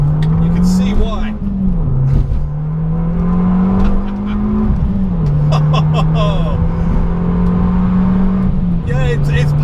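An Abarth 695 Biposto Record hot hatch accelerates hard, its loud engine note climbing through the gears with brief dips at each shift, heard close from inside the car.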